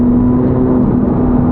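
A stock Chevrolet Corvette C8 Z06 engine holds a loud, steady high-pitched whir close by for a brief burst, with no other sound over it.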